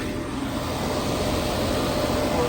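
A NAVAC 4-cylinder refrigerant recovery machine runs steadily, a dense, even mechanical drone with broadband hiss, constant and close throughout, recovering R410A refrigerant.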